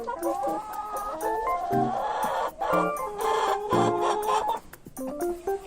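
Several farmyard hens cluck in a rapid, uneven series of close, clear calls, with short bursts of excited clucking and no talking.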